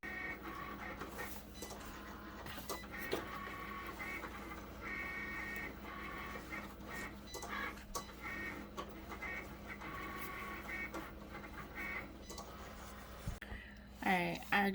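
A printer runs through repeated printing passes, a steady mechanical whirr with rhythmic carriage strokes at moderate distance, with faint clicks and shuffles around it.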